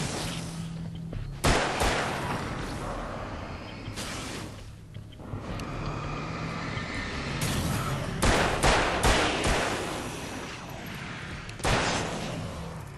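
Gunfire from Alan Wake's American Nightmare: several sharp shots crack out at irregular intervals over a low droning game soundscape, with a short quiet gap midway and a cluster of shots near the end.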